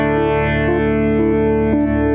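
Audio region time-stretched to four bars in Logic Pro for iPad, heard as a loud, steady sustained tone with dense harmonics and slight pulsing smears, pitch unchanged and no speech.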